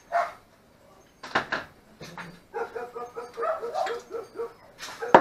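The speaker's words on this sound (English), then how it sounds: "Oh, the nightly bark." A dog barks at night, a few separate barks and yips with pauses between them, at moderate distance, not very loud.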